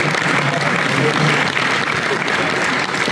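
An audience at an outdoor motorcycle festival applauds steadily, a dense wash of clapping that holds at an even volume throughout with faint crowd murmur underneath.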